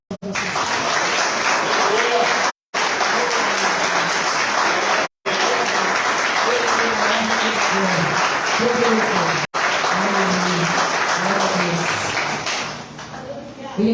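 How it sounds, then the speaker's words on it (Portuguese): Sustained loud applause from a church congregation fills the room, with a few brief gaps, while a voice carries on faintly underneath. "Você pode aplaudir Jesus aonde você está."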